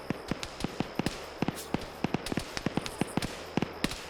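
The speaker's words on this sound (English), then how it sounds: "Scandi Recon have heard the shooting" Rapid bursts of video game gunfire in a military squad tactics match, sharp repeated shots at irregular intervals, fairly close and loud, with no talk over them.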